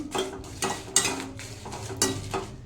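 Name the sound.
dry-frying chillies and spices for bisibele bath powder, stirring in pan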